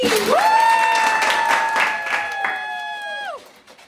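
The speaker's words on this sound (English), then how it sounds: "everyone give a hand of applause for Johnny the Monkey" Audience applause and cheering for Johnny the Monkey at a puppet show, crowd clapping under a sustained sliding tonal sound that holds steady before bending down and fading, the whole thing loud and near then tapering off.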